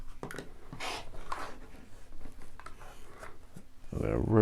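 Fabric being cut into a small trapezoid for a quilt block gives several short, close scratchy swishes of blade through cloth, separated by brief pauses, ending in a louder rustle.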